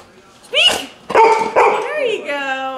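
A dog barking on command during a day out in Helen, Georgia, giving a few loud, close barks and yips in quick bursts, with people's voices mixed in around them.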